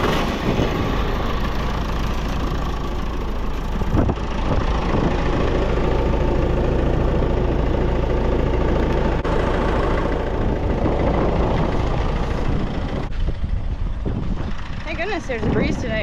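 A tractor engine runs steadily at a low, continuous rumble in a hay field as baling begins, loud and close, with people talking over it.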